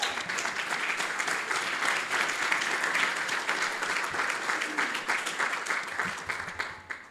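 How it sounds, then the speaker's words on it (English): A crowd at an awards presentation honoring humanitarian recipients claps at length, dense sustained applause that swells and then slowly thins out toward the end. "Please give these wonderful people a huge round of applause."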